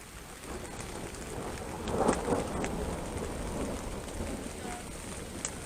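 Heavy rain pours down at a campsite with a soft roll of thunder partway through, a dense steady hiss with a few sharper drop hits, no talking.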